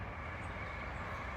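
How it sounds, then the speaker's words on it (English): A train passes near an allotment with a steady, broad rumble and rushing roar, continuous and fairly loud, with no talking. "Excuse me for the train."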